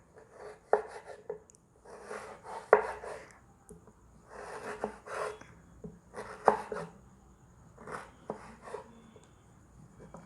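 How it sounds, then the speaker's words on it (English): A knife chops a slightly melted bar of Dairy Milk chocolate on a board, about half a dozen separate bursts of quick cutting taps with short pauses between, close and fairly quiet. "we'll start chopping the dairy milk chocolate"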